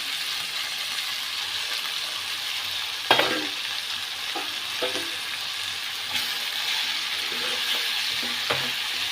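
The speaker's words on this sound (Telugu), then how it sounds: "మనం కట్ చేసి పెట్టుకున్న బెండకాయ ముక్కల్ని పోపులో వేసేసుకుందాం" Cut okra pieces sizzle in hot tempering oil with ground coriander, a steady loud frying hiss broken by a few scraping stirs of the spoon in the pan.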